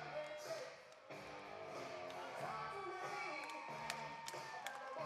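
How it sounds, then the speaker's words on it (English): Arena crowd at an MMA event cheering and whooping steadily as a fighter walks out to the cage amid smoke, a dense roar with scattered shouts and claps throughout. "The smoke goes up, the crowd cheers."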